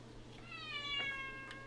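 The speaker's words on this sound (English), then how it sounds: "Go meow somewhere else, though." A house cat meows clearly indoors beside a computer being assembled, one drawn-out tonal cry rising and falling against a low steady hum, fairly close and alone.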